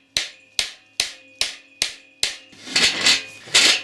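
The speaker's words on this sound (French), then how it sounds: "lunettes de sécurité, chasse-goupille, gros marteau, et on tente le coup." A big hammer strikes a pin punch on a car air-conditioning part, six sharp ringing metallic blows at a steady pace, then a rougher scraping rattle and two heavier knocks, close and loud.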